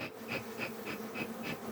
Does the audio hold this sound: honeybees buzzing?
yes